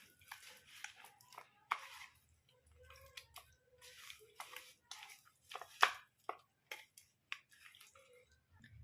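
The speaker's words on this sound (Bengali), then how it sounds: "এবার নুন হলুদটাকে ভালো করে মিশিয়ে নেব মাছের সঙ্গে।" Raw rohu fish pieces are mixed by hand with salt and turmeric powder, giving soft, wet squishing and slapping sounds. Short irregular bursts come close up and fairly quiet, with occasional faint clinks.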